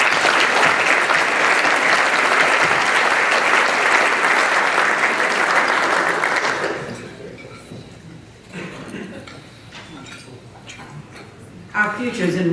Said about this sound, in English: If you all give another round of applause for both these very fine young people.